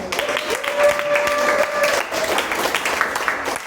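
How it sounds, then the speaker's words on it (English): Audience at a roast applauds, with a dense, steady wash of clapping across the whole stretch at moderate loudness and a faint steady tone running through the middle. "Give yourself a round of applause."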